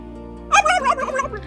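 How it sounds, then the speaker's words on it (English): A creature's questioning chirp, rendered as a short burst of bright gobbling, warbling calls rising out of a quiet background, close and fairly loud, then trailing off. "feathers rustling, letting out a questioning chirp"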